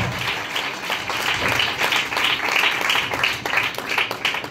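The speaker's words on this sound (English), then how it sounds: "us clap for the Holy Spirit of the Lord." A church congregation claps steadily and loudly together, a dense continuous wash of hand claps with faint voices mixed in.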